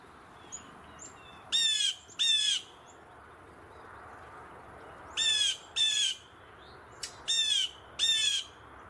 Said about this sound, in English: They don't often sing anymore, but you can hear them rattling from the trees.